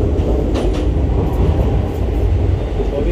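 A metro train in Spain rumbles loudly and steadily at close range, with a continuous rolling roar and faint rail clatter throughout.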